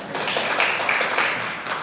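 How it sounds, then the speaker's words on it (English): Audience applause at a startup business talk, a dense, steady burst of clapping from the room that lasts about two seconds, close and fairly loud. "Give us applause"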